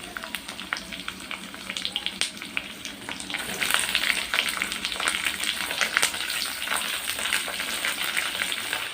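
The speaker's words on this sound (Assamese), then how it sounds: "মাংসখিনি আগে ভাজি লওঁ ভালকৈ" Chicken pieces fry in a pan with onions in a home kitchen, giving a steady, dense sizzle and crackle that swells partway through, with occasional stirring clicks and no talking.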